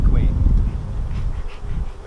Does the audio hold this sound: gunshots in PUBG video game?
no